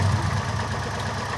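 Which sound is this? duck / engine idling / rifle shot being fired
engine idling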